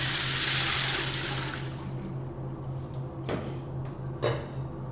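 Water poured directly over dry beans set out for soaking, a loud splashing pour that fades after a second or so, followed by a couple of light knocks and a faint steady hum.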